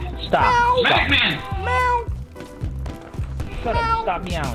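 Voices imitate a cat with drawn-out meows and meow-like calls, several in a row, mixed with shouted talk over an online military shooter game in BattleBit Remastered.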